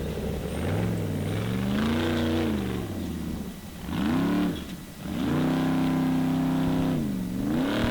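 A Formula Offroad racing car's engine revs hard in repeated loud surges, climbing and falling in pitch several times as the throttle is blipped and held, close and dominant with no voices.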